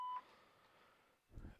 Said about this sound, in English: if you try and persevere with the annoying beeping noises